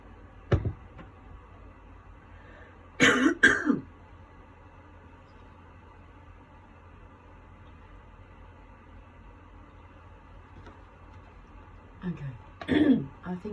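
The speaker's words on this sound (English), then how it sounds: "let me just try and clear my throat so we can allow room for the words." A person clears their throat and coughs in short, close bursts: one brief sound near the start, a heavier cluster a few seconds in, and another cluster near the end, with a low engine-like hum underneath.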